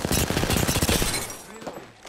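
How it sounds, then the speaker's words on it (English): Rapid gunfire from an Apex Legends firefight crackles in dense, overlapping bursts, loud and close, then thins out toward the end as the shooting tapers. "I'm taking fire."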